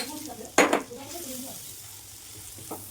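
A chicken filling for kurkure singara, dusted with garam masala, is stirred in a pan. One loud scraping stroke comes early over a low, soft sizzle, followed by a fainter scrape near the end.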